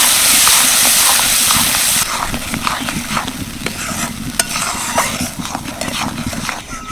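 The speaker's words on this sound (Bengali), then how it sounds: "এবার মশলাটাকে ভালো করে কষিয়ে নেব" A spice paste with turmeric is stir-fried in a pan, loud and close, with a strong sizzle at first and then repeated scraping and knocking strokes of the spatula over a softer fry.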